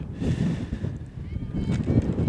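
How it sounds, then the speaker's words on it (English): Heavy wind buffets the microphone in a constant low roar at an outdoor softball game, with a voice audible underneath. "It is unbelievably windy."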